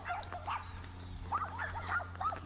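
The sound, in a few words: small dogs barking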